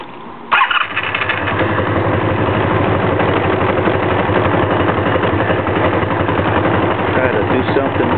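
A Honda Magna V65 motorcycle with a hard-starting fault cranks and catches in one burst, then runs at a loud, steady, low rumbling idle close by.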